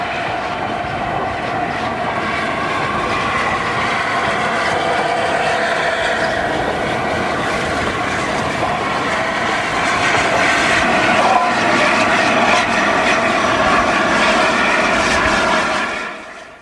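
Steam locomotive Sir Nigel Gresley, an LNER A4 class engine in fresh livery, runs past with a loud, continuous rumbling roar that holds steady and swells slightly before cutting off.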